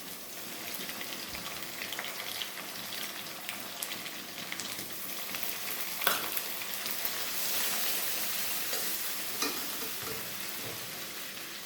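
Shrimp roe fries in a pan with green chilli paste, a continuous, moderately quiet crackling sizzle like light rain, with occasional small pops and clicks throughout.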